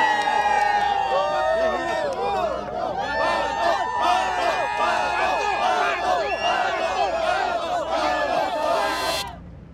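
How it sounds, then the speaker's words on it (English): A crowd at Barber race track cheers and shouts in an excited mass of voices, with whoops rising over the babble before the noise cuts off abruptly near the end. "check out the crowd here for Pato."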